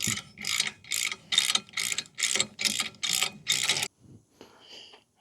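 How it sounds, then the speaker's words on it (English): A ratchet with a 24mm socket tightens a bolt on an electric two-bike hitch rack. About eight crisp bursts of clicking come close and loud in an even rhythm, then stop, leaving a faint clink. "Let's take the 24mm socket to tighten up."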